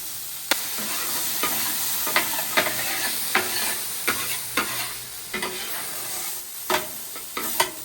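Food sizzles loudly and steadily on a SOLO Steelfire 30-inch griddle while a spatula scrapes and taps the steel in irregular strokes, with no voices.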